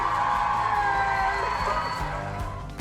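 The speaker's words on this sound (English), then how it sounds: "It looks like you have a cheering section with you today" A cheering section whoops and cheers in a steady, loud wash of crowd noise, with high excited calls and shouts layered over one another the whole time.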